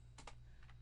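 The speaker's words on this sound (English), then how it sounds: "Hit the tab button, or the tab key on your keyboard" Two quick taps on a computer keyboard key, the Tab key, followed by a softer pair of clicks, all close and quiet with no talk.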